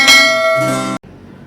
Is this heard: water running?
no